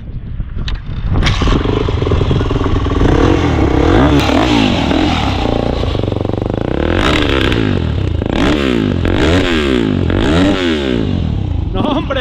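A Yamaha YZ 250F four-stroke motocross bike is revved repeatedly, its loud raspy engine note swooping up and down in sharp blips with clattering mechanical noise close by, and a voice occasionally audible underneath.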